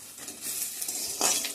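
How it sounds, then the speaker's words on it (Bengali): Onion, garlic, bay leaf and dried red chilli frying as a tempering in hot oil, a continuous close sizzle with a few sharper scrapes of a spatula against the pan, no voices. "তো আমার ফোড়নটা ভাজা ভাজা হয়ে গিয়েছে, পেঁয়াজ রসুন আর তেজপাতা শুকনো লঙ্কা"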